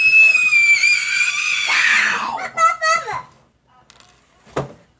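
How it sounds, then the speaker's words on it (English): A young girl lets out a long, piercing scream that rises and wavers for about two seconds, then breaks into shorter wailing cries and a final sharp yelp, close and loud. "She's just screaming like that."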